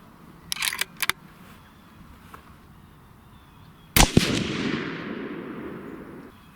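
A Savage 111 rifle in .270 Winchester firing a single loud, close shot with a long rolling echo trailing away outdoors, preceded by a few sharp clicks.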